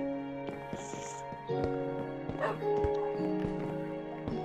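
A dog barks in the game Minecraft, giving short yips over a sustained tonal music bed. The barks are mixed in at moderate loudness with no voice over them.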